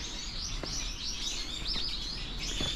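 Birds chirping among trees around Nishio Castle in Japan in autumn, a run of high quick tweets and trills at moderate distance over steady outdoor hiss.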